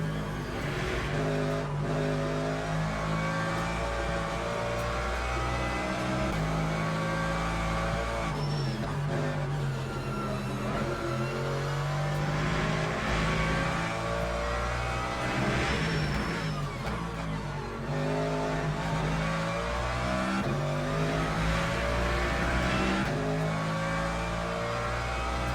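A race car at speed in the Le Mans Ultimate sim at Circuit of the Americas, running on a full tank with worn tires: a continuous loud engine drone with rising and falling revs and shifts, no talking.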